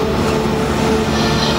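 A Universal Studios tram rumbles along its route, a loud, close, continuous rolling drone with faint wheel squeal over the brief stretch.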